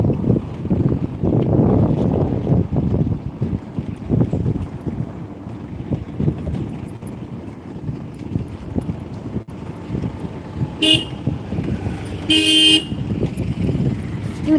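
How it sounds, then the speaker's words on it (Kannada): A vehicle horn gives two short honks near the end, over heavy wind buffeting and a low rumble of traffic or engine noise. "ಅಂತ ಹಾರ್ನ್ ಹೊಡಿತಾನಪ್ಪ"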